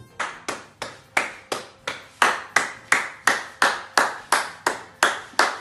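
Steady hand clapping, about a dozen sharp claps at an even, unhurried pace, close and loud with no voices.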